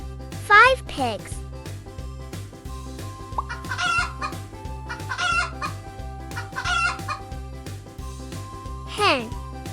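Hens cluck and a rooster crows in repeated bursts over backing music in a children's farm-animal counting song, with a voice also present.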